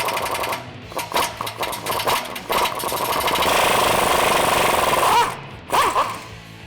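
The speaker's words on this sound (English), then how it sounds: "we're gonna use a 14mm socket on this bolt to slowly back it out" A ratchet with a 14mm socket slowly backs out a rusty exhaust flange bolt on a Tacoma, giving loud, rapid mechanical clicking bursts in uneven runs with brief pauses between them.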